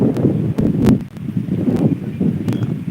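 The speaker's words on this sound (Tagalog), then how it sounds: "Lakas ng hangin." Strong wind by the sea buffets the microphone in loud, continuous rumbling gusts, with rustling and a few sharp knocks.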